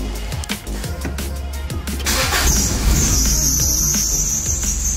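A swapped engine in a Honda Accord Maestro CB7 cranks with a rapid stuttering starter, then catches and settles into a steady idle with a thin high whine above it.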